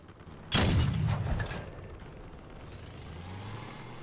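A single heavy gunshot from a truck firing at range in the vehicle combat game Crossout: one loud boom that rumbles and fades over about a second, followed by a low engine drone.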